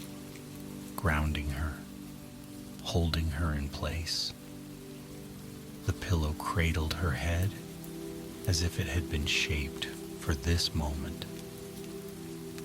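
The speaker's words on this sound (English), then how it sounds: "Outside, the rain continued." Rain falls on a cabin roof beside a lake, a soft constant patter in the background while someone narrates calmly over it.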